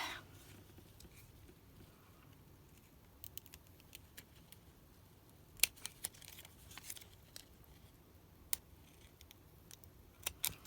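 Faint, sparse snips of scissors cutting paper, a few quick cuts scattered over a quiet background, with a small cluster in the middle.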